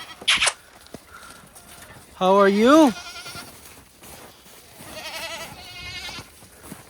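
Goats bleat on a farm in a Canadian winter: a short sharp cry, then a loud wavering bleat and a fainter one later, heard close by, with a person briefly greeting in between.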